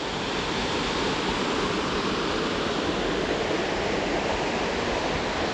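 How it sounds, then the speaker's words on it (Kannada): A forest waterfall roaring as a dense, steady rush of falling water, loud and close, with no voices over it. "ಸರಳಾಗಿದೆ ಫಾಲ್ಸು"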